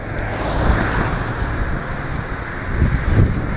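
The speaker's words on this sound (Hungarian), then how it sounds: "Piszakul fúj a szél, és össze-vissza fúj, hol jobbról, hol szemből, hol balról." Strong gusty wind near the seaside buffets the microphone in a constant roaring rush, swelling and easing in irregular surges, with no voices heard.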